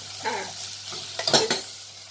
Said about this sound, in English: Just cook it until my onions are nicely cooked.